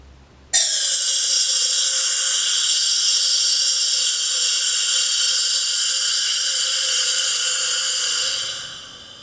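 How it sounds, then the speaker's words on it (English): Pressurized gas vents from an upright bottle with a loud, steady hiss. It starts abruptly and holds for about eight seconds before tapering off. "holding it upright, so none of the liquid comes out, but all the gas comes out instead"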